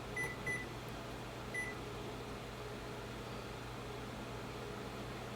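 A kitchen air fryer switched on at its lowest temperature runs with a steady, low fan hum and whir, with a few short electronic beeps near the start, all fairly quiet and without talk.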